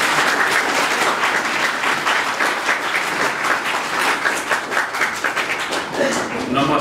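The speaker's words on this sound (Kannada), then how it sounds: "ಓಕೆ ನೋಡಿ, ಚಪ್ಪಾಳೆ" An audience at the inauguration of an orientation programme gives sustained, loud applause, many hands clapping in a dense, even roar that holds steady throughout.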